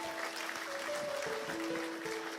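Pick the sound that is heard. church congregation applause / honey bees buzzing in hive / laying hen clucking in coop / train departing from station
church congregation applause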